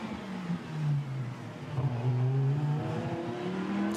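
A GT2 race car at speed during free practice at the Spa circuit, its engine note droning steadily and rising in pitch as it passes, loud and continuous with no speech.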